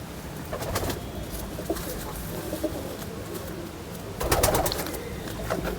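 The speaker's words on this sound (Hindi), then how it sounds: "ये देवबंदी कबूतर।" A Deobandi pigeon coos softly at close range over a low, steady background hum, with a slightly louder burst of calls near the end.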